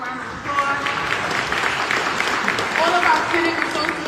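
An audience claps at a recreation center grand opening press conference. The applause swells after a brief pause and holds steady, with voices talking over it.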